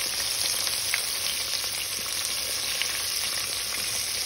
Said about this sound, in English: as this is cooking, I'm flipping them over in the pan here